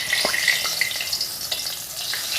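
Bay leaves frying in hot oil for a vegetarian jackfruit curry, a steady close crackling sizzle with brief spits and stirring scrapes, no voices.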